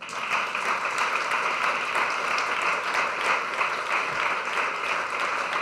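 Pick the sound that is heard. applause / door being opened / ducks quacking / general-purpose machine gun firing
applause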